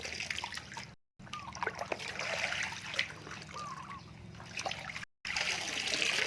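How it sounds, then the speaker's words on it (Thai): Water and floating red duckweed scooped with a simple basket from a golden apple snail pond, giving splashy trickles and dribbles that run continuously and fairly close, with two brief gaps of silence. "ก็ตักเลยนะครับ ใช้ตะกร้าตักแบบง่ายๆนะฮะ"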